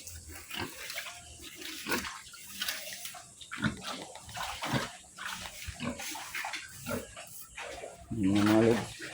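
Water runs from a tap into a concrete pig pool at a pen while pigs grunt and snuffle nearby. Someone talks over the splashing, and a loud squeal rises near the end.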